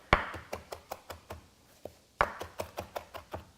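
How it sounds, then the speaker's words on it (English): A sharp knife chops fresh parsley stems on a cutting board in a farm kitchen, with crisp, close knocks in two quick runs of about eight or nine strokes each, separated by a short pause. "If you get a few stems, you're just going to chop them right up"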